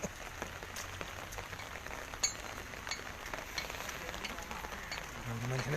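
Steady rainfall during a downpour over flooded, muddy paddy land beside a highway in Malappuram: a dense even hiss of drops on surfaces, fairly faint, with a low rumble near the end.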